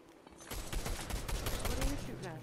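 Rapid gunfire in Fortnite, a dense burst of sharp shots packed closely together, fairly quiet and distant-sounding in the game mix, starting abruptly after a brief hush.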